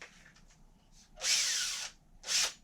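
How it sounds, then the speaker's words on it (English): A power drill whirs in two bursts, the first longer and rising in pitch, the second short, with faint clicks before, as it turns over a Ford F-150 engine. "So if we take our drill"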